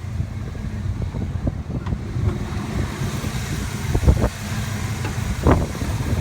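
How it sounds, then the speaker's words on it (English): A 1984 Monte Carlo SS with a 305 V8 idles steadily under the open hood, a low continuous rumble mixed with outdoor wind noise and a few brief knocks. "Look at that smooth running 305, folks."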